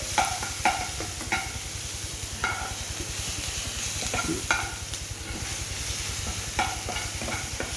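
Garlic paste and whole black cumin frying in a pan, a steady sizzle with a low hum beneath, broken by repeated scraping stirs of a spoon at an irregular rhythm, close and alone with no talk.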